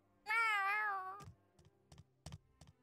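A cat meows in the video game Tales of Arise: one long, clear, drawn-out meow, followed by a few soft, scattered thumps in an otherwise quiet scene.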